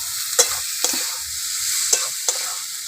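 Potatoes are stirred into hot frying spices for a crab curry, with a steady sizzle and four sharp scraping strokes of a spoon against the pan, close and fairly loud.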